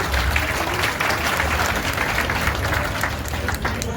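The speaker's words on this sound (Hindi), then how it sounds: "फिर से तालियां हो जाए" A crowd applauds loudly and steadily, dense clapping filling the space without a break.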